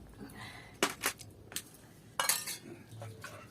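Metal utensils and dishes clink and clatter in a few sharp bursts, fairly quiet, like someone washing up at a sink.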